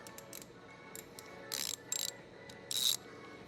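A wrench ratchets while tightening a stainless steel strap on a hose, giving three short bursts of clicking separated by quieter pauses, close and fairly loud.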